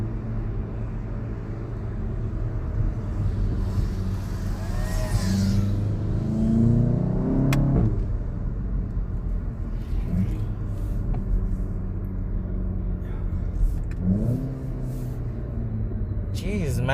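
A 2016 VW Golf GTI Clubsport with a free-flow exhaust drives on the road, engine droning and rising in pitch through revs and gear changes, a steady rumble under someone talking.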